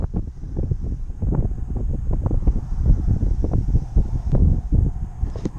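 Wind blowing across a private pond, a steady low rumbling buffet of gusts against the microphone that stays loud and continuous throughout.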